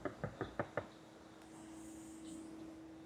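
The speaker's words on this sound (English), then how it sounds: "I've knocked on the window and he's not." Five quick, evenly spaced knocks rap on a car window, close and distinct, followed by quiet background hum and faint traffic.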